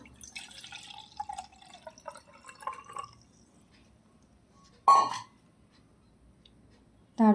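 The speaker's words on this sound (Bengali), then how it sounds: "আমি দুধ রেখে দিয়েছিলাম সবার আগে নেব দুধ" Milk is poured into a vessel indoors to make panchamrit for a home Shiva puja: a faint, uneven trickle for a few seconds, then quiet broken by two short, sharp clunks.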